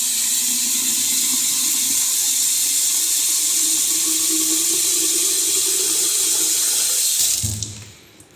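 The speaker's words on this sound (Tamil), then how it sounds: "இதில் தான் தண்ணி பிடிச்சிக்கணும்." Water runs steadily from a tap into a container, a loud continuous hissing splash for several seconds that cuts off near the end.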